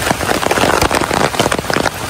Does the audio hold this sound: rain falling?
yes